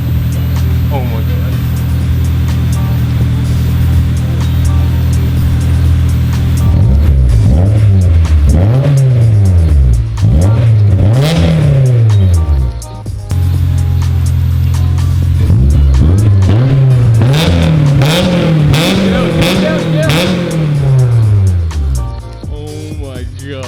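Honda S2000 with a Skunk2 aftermarket exhaust revving hard in repeated loud blips, each swell rising and falling after a steady idle, with a deep tone and excited voices talking over it.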